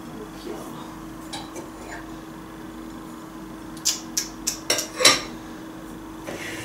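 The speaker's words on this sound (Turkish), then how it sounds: "İşte o yüzden şu bulaşık makinesini boşaltmayı hiç sevmiyorum." Dishes and cutlery clink and clatter as a home dishwasher is unloaded, a few sharp knocks bunched together in the middle over a steady hum of the room, with no talk.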